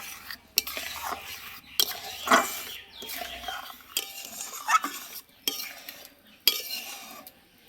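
Mango pulp mixture for amsatta being stirred in a pan over a low flame, with repeated scraping and clinking strokes of a utensil against the pan at an uneven rhythm, close and fairly quiet.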